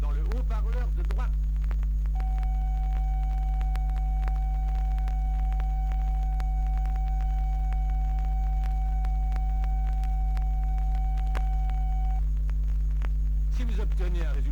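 Steady pure test tone from a vinyl test record played through a cheap 15-euro cartridge, a continuous sustained whistle lasting about ten seconds over a low constant hum, with a voice talking briefly before and after.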